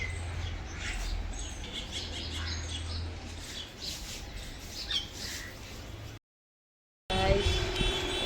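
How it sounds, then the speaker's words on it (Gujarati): Mynas chirp and squabble playfully on a Sunday morning, a busy scatter of bright calls over low background hum, broken by a brief silence near the end. "કાબરો મસ્તી કરે."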